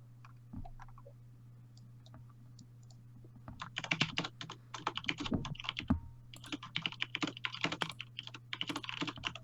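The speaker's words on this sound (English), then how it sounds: "Frantic typing." Rapid, frantic typing on a mechanical keyboard, dense bursts of sharp clicks that grow busier after a few sparse taps, close and fairly loud over a steady low hum.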